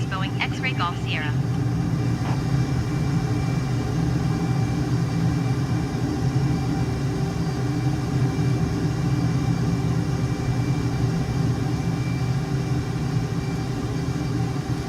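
A Boeing airliner's engines drone steadily in Microsoft Flight Simulator, a constant low rumble under a brief burst of radio chatter at the start.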